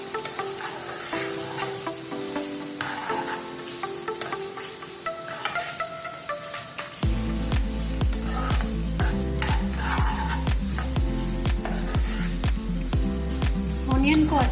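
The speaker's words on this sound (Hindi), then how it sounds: "ऑनियन को अच्छी तरह से फ्राई करेंगे जब तक ये लाइट पिंक कलर की हो जाए" Finely chopped onion fries in a pan with a constant, close sizzle, and repeated spoon scrapes and taps grow louder and busier partway through. No one speaks.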